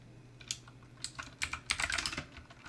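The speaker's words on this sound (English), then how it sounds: "Who is a slapping their keyboard?" Someone pounds hard on a computer keyboard, producing irregular bursts of loud, sharp key strikes that cluster into a rapid flurry toward the end, with no talking.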